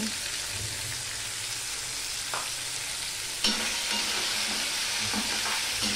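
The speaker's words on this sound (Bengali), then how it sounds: "সম্পূর্ণটা আমি মিশিয়ে নিয়ে রান্না করতে থাকবো।" Drumstick flowers with turmeric and salt sizzle steadily in a pan as they are stirred, with a few louder scraping bursts as the spoon moves through them.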